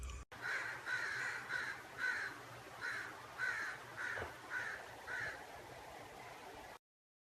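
A crow cawing repeatedly as a sound effect, about nine harsh caws in a fairly even rhythm, clear and close, ending abruptly in silence.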